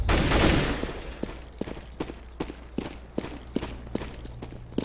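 P90 submachine gun fire in CS:GO, a loud opening burst followed by a string of rapid, sharp individual shots and short bursts at irregular intervals, with footstep-like thuds between them.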